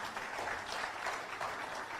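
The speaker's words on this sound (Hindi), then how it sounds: "जोरदार ताली मारिए" Seminar audience applauding, a dense steady wash of clapping from many hands with no pauses across the whole stretch.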